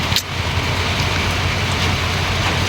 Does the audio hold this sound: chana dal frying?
no